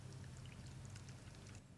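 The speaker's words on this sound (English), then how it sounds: "We pour the wood hardener straight into the cap" Ronseal wood hardener poured straight into its bottle cap during a rotten window repair, a steady close-up liquid pour running unbroken for about two seconds.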